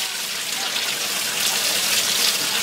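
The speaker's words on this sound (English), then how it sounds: "There's a blue turbo runner that we're spraying water on with the 9/16 inch nozzle that you can see" A water jet from a 9/16 inch nozzle sprays onto a blue turbine runner in a residential hydro setup, producing a steady, loud hiss and gush that runs without a break throughout.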